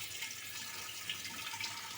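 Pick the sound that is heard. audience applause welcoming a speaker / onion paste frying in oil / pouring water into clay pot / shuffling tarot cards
pouring water into clay pot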